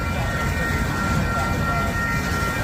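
A train passes through St Paul with a loud, continuous rumble and roar that holds steady throughout, sounding close by, with no talk over it.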